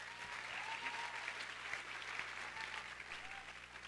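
Faint, distant applause from a school show audience during a curtain call, a soft steady patter of many hands heard from far back.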